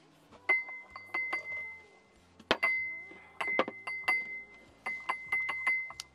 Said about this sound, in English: Got these steel ball things. They're supposed to be kind of like ice cubes.